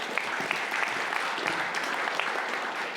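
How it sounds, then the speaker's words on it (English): Audience applause for panelists at a New Zealand horticulture conference session, a steady patter of many hands clapping, moderately distant and even for the full span. "Let's give them a big round of applause."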